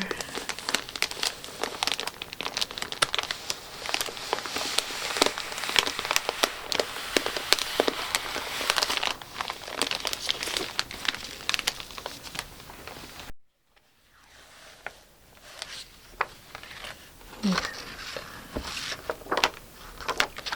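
A protective plastic cover on a pop-up book of Poe's The Raven crinkles steadily and closely for about thirteen seconds, then falls briefly silent before softer, sparser rustles resume.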